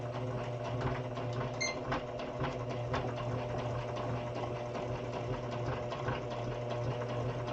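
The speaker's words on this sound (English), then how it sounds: "I'm stitching the raw edge on the back." A sewing machine stitching the raw edge on the back of a button doll, a fast steady mechanical whirr and rattle running continuously at close range.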